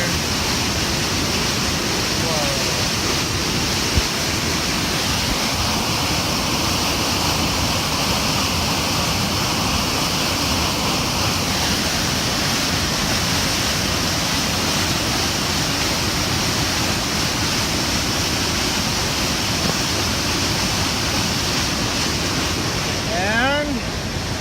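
Water rushes down a natural rock water slide in a broad, constant roar that fills the whole stretch, loud and close, with faint voices briefly beneath it.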